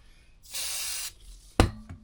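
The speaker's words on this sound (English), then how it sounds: "So now I'm just giving it a quick clean and then giving it a final lube." Cleaner is sprayed onto the chain of a Suzuki GSXR 600 motorcycle in one short hissing burst, followed by a sharp knock nearby.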